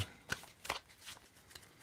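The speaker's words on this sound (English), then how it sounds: "Just give it a little shuffle." Tarot cards shuffled by hand, a few quick riffling bursts of papery flutter spaced apart, close and fairly quiet with no speech.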